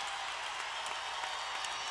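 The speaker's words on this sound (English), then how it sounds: "Yeah, this crowd likes what they saw from Ashley Postel" Crowd applauding at a 2007 NCAA women's gymnastics meet, Florida at Utah, after a balance beam routine; steady dense clapping fills the whole stretch, fairly close and even throughout.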